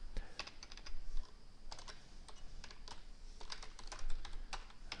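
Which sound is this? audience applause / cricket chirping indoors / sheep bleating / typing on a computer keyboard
typing on a computer keyboard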